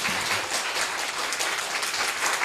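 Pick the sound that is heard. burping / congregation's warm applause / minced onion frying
congregation's warm applause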